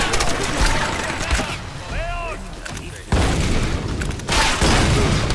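Grenade explosions in the Tomb Raider video game, heavy booms and bursts of gunfire-like blasts close and loud, with a brief whistling tone midway and someone talking excitedly over them.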